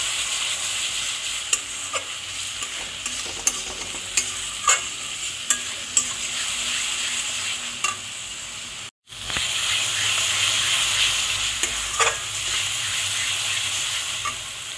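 Egg curry masala is sautéed and stirred in a pan with splashes of water to keep it from burning, giving a steady loud sizzle punctuated by regular scraping spatula strokes. A brief silent gap falls midway before the frying resumes.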